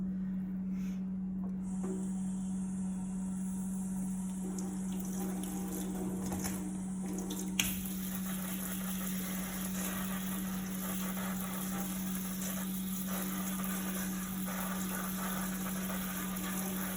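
Fresh lemons rinsed under a running kitchen tap, a steady faint water flow with a persistent low hum beneath and a brief clunk midway.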